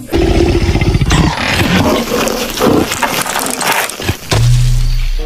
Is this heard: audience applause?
no